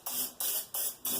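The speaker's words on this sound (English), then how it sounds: "I just have some of this olive oil spray, and I'm going to coat" Olive oil cooking spray coats a loaf pan in four quick, evenly spaced hissing bursts, close and crisp, with short gaps between each spray.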